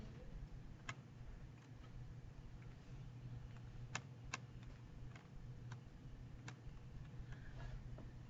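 Typing on a computer keyboard: sparse, scattered keystroke clicks, a few sharper than the rest, tapping irregularly over a quiet background hum with no talking.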